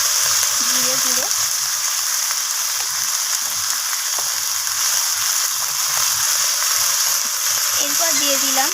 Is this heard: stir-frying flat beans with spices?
yes